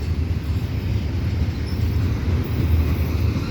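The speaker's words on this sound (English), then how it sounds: "You get a westbound stack train." A westbound CPKC double-stack freight train rolls past at Dorval with a continuous loud low rumble and roar, steady throughout with no horn or voices.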